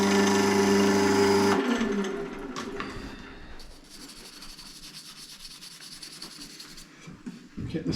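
Wood lathe spinning an olive log, a loud steady whirring hum that winds down and gives way to softer rubbing and scraping against the turning wood.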